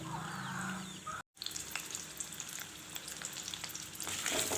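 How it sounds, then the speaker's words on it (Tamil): Steady crackling sizzle of onions, spices and dried red chillies frying in hot oil, continuous and close, with a brief cut to silence early on before the frying resumes. "இப்போ லைட்டாக அந்த எண்ணெயில் வதக்கி விட்டுக்கலாம்"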